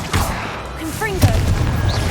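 A Confringo fire-blast spell bursts in the Hogwarts Legacy video game, a single sharp blast midway amid magical whooshing tones and steady game ambience.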